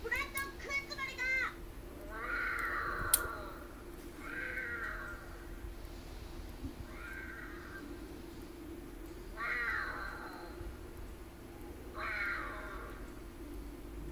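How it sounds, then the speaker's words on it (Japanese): A cat meows several times at a steady spacing, moderately near, against a constant low hum and faint background chatter, with a brief child-like voice at the start. "猫だ。"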